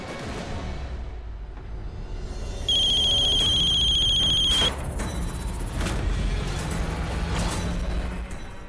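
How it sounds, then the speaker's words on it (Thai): A mobile phone rings with one sustained, high electronic tone lasting about two seconds, heard over a steady low rumble and scattered faint thuds. "ได้ยินเสียงมือถือของฉันนั่นเหรอ"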